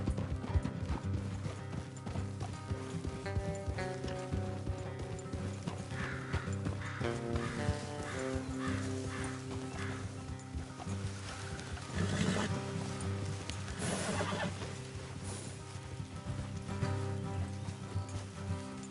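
Horse hooves clip-clop steadily and rhythmically throughout in Red Dead Redemption 2, layered under a sustained musical score with occasional louder swells.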